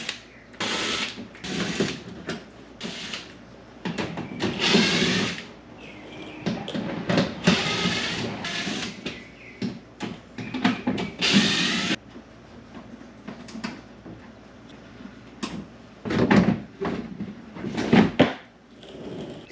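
Bolts and a plastic clip being worked loose from a cover under the rear of a Ford Maverick, giving irregular close clicks, ratcheting and clunks in bursts with short pauses.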